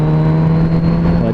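A Kawasaki Z900 RS motorcycle accelerates to overtake, its engine droning loud and steady with strong low rumble and wind noise, heard from the rider's position.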